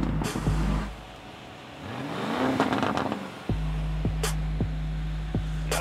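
Lamborghini Urus SUV driving fast on a track, engine rumbling then surging with a revving sweep midway, followed by a steady drone punctuated by a few sharp clicks or shifts.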